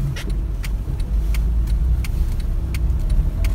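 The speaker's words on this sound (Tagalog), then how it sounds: "Traffic." Road traffic passes steadily as a continuous low engine and tire rumble on a city street, with faint clicks and rattles on top.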